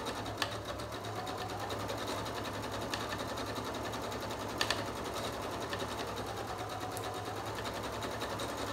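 A sewing machine runs continuously as it stitches along the edge of a fabric taco pillow, a steady rapid whirring hum at low volume, with a couple of faint clicks and no speech.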